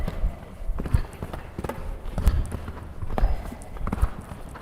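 Steady clip-clop of horse hooves on firm ground at a brisk, even rhythm, close by, during show-jumping training, with occasional muffled sounds in the background.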